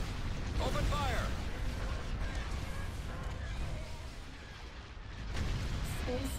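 Ship weapons firing in a Star Wars Empire at War space battle, rumbling blasts and bursts layered over sustained battle noise, with laser-like chirps and speech woven through.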